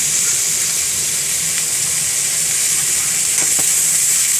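Salmon head and vegetables seasoned with salt and pepper sizzle loudly in a pan for a coconut-milk stew, a dense continuous hiss with a couple of brief scraping stirs, close and without speech.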